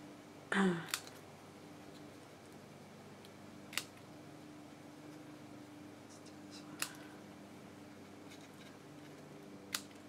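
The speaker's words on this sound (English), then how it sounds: "I am going to still snip some of those, so some are longer, some are shorter" Scissors snip paper grass for a craft egg diorama: a handful of quiet, crisp, isolated cuts spaced several seconds apart in a calm room.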